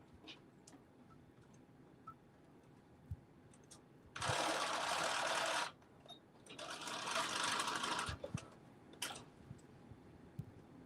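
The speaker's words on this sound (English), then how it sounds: "Now my sewing machine is acting a fool." A malfunctioning sewing machine runs in two loud bursts of rapid stitching, a second or two each, separated by quiet clicks and small handling sounds.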